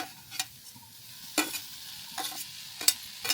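Tomato tipped into onions frying in a pan and stirred, with a few sharp scraping stirs and a brief sizzle over a quiet background, close by and alone.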